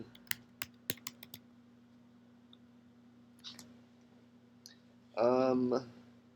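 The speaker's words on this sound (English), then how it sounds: "I'm just going to type that in." Quick bursts of computer keyboard typing, close and fairly quiet, come in short clicking runs separated by pauses, over a steady low hum, with a brief spoken phrase near the end.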